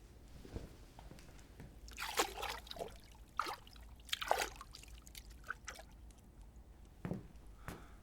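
Water sloshing and trickling as someone lowers into a filled bathtub, with soft splashes and drips in uneven bursts, close and fairly quiet.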